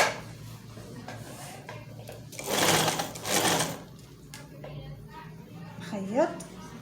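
A sewing machine runs on a flared circle skirt in a short, close burst of rapid stitching, with quiet handling sounds and some speech around it.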